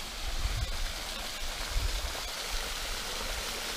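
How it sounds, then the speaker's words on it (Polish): Steady trickling, gurgling spring water in a forest runs throughout, with low rumbling bursts underneath; a continuous outdoor flow with no voices. "Gdzieś źródło wypływa."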